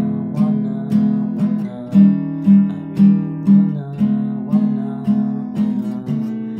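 Guitar plays the first pre-chorus of a song: steady, rhythmic chords repeating in regular strums with clear accents, close and fairly loud, with no voices.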